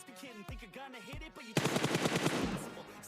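Gunfire in the battle-royale game Free Fire, a sudden loud rattle of rapid shots that follows a stretch of warbling tonal game sounds, continuing steadily to the end.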